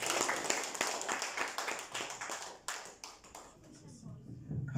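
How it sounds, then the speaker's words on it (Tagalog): A church congregation claps together during a Filipino Sunday worship service. The claps are loud, close and in quick rhythmic bursts, and they thin out near the end while a voice speaks over them. "Palakpak tayo ulit sa Lord."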